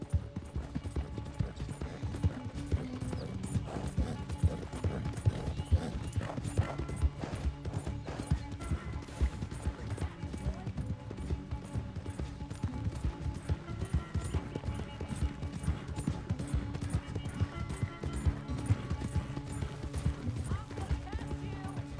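Galloping horse hooves during a race in the video game Red Dead Redemption 2, a rapid, continuous drumming of hoofbeats with game ambience underneath, steady and close for the whole stretch.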